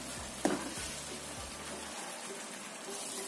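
A spoon stirs a seasoned snack mixture in a pan over a steady, hissing sizzle, with a few soft scraping knocks against the pan before the frying noise carries on alone.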